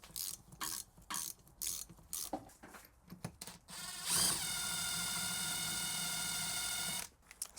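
A ratchet works a T45 bit on the rear brake caliper of a Mercedes ML350, giving close rhythmic clicking bursts, then a few seconds of steady mechanical whirring before stopping.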